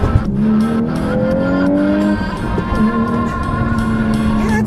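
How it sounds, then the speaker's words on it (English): A Volkswagen Golf R accelerating hard with its wheels turned, the engine climbing loudly in pitch through the run with tire squeal and a brief shift break, heard close and continuous. "let's do another acceleration here. This time I got the wheels turned a little bit."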